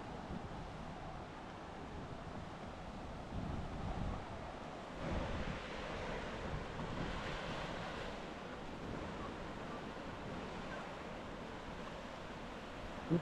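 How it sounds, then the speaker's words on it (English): Mediterranean Sea waves wash onto a beach in a steady, broad rushing wash with mild swells and some wind buffeting, moderately loud and continuous with no voices. "let's explore the sea."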